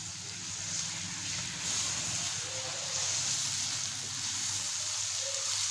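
Minced meat (keema) frying in a pan with potatoes and peas, giving a steady, even sizzle that carries on without a break at moderate loudness.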